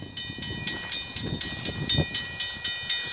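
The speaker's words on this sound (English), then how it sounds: "we got a CP eastbound train" CP eastbound freight train passing at Bronte Street in Milton, Ontario, with rhythmic wheel clatter and rumbling cars close by, plus faint high squealing tones, and no talk.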